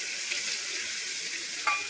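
Curry leaves with ginger, chilli and garlic paste sizzling in hot oil as a tempering, a steady close hiss with a brief sharp spike near the end.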